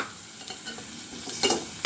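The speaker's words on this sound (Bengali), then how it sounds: "পেঁয়াজটা আবারও ভাজা হোক" Chopped onions frying in oil in a pan after prawns, a steady close sizzle with light stirring scrapes, brightening toward the end.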